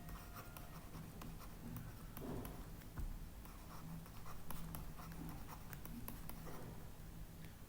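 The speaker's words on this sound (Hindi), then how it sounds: "मैं ऑप्शन लिख देता हूं आपके लिए।" Pen strokes writing answer options by hand on a board or page during a physics lesson, a steady run of light scratchy marks with small ticks, close and fairly quiet with no talking.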